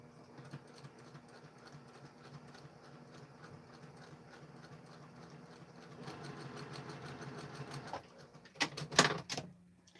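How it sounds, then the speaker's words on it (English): A sewing machine stitches quilt pieces with a soft, steady mechanical whir and rhythmic needle ticking at low volume, ending in a few louder clunks and rattles. "I like to sew from this side up, okay? And I'm just going to sew right alongside that line."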